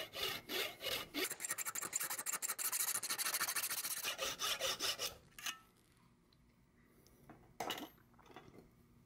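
Hand sawing through a small metal part clamped in a vise, a fast run of rasping back-and-forth strokes for about five seconds, then a pause and a couple of brief scraping strokes, close and fairly loud.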